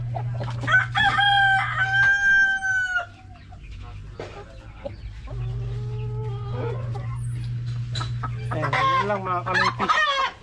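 Rhode Island Red hens cluck and a rooster crows in bursts over a steady low hum, with short gaps between calls; the birds sound close.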